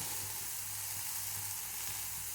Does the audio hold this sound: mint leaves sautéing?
yes